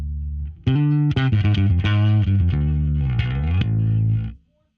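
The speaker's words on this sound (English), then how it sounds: "this is my distortion pedal now" An electric guitar is played through a distortion pedal, giving a thick, gritty, sustained tone. A short run of loud picked notes and chords rings out alone before being cut off to silence.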